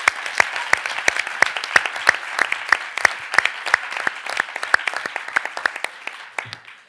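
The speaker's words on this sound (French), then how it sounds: "il faut applaudir Luigi." Applause at a Paris oratory contest final: a crowd claps in a dense, lively patter with crisp individual claps throughout, gradually thinning toward the end.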